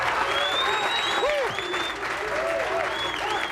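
Bowling crowd at the 1988 PBA Kessler Open championship match applauding a strike, with a dense wash of clapping plus whistles and cheers rising through the hall and a commentator talking over it.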